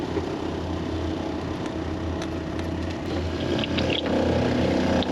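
An RV water pump runs steadily during winterizing, a continuous low mechanical hum and whir with some faint clicks and rustle, no talk.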